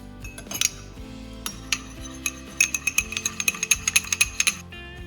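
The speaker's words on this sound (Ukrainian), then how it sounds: "додаємо 2 столові ложки оливкової олії та докладно змішуємо соус" A spoon clinks and scrapes against a bowl in quick, uneven strokes, stirring a sauce with olive oil up close with bright metallic taps.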